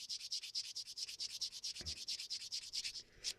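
A soft foam sanding sponge of about 240 grit rubs a plastic model kit part in quick, even back-and-forth strokes, a steady rhythmic hiss close by, with one dull knock midway.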